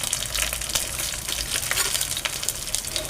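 Green chilies hit hot oil with cumin already in the pan, giving a dense, crackling sizzle that stays close and loud throughout, with no talking.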